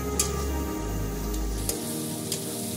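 Cumin powder, Kashmiri chilli and coriander powder frying in a pan for a jackfruit and prawn dish, a steady close sizzle with a low hum at first and a few sharp crackles.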